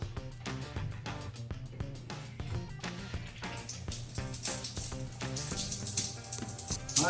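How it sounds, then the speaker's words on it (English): Water runs from a shower fitted with a Delta valve and suffering low pressure, a steady rushing splash with irregular spattering that grows a little louder toward the end. "Let's turn the water on."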